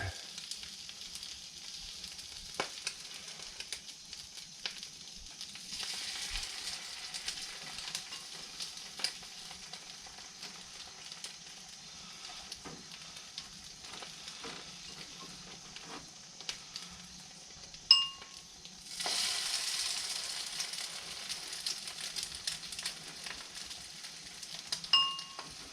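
French toast frying in a pan gives a soft, continuous sizzle, close but quiet, swelling louder as fresh egg-soaked bread is laid in the hot pan, with faint clinks of utensils.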